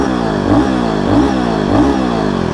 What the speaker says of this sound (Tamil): இதோட எக்ஸாஸ்ட் நோட் இன்னொரு வாட்டி கேளுங்க, பயங்கரமாக இருக்குங்க.